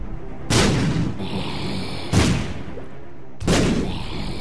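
Bombs exploding in The Binding of Isaac video game, three loud booms spaced about a second and a half apart, each with a short rumbling tail, no talk.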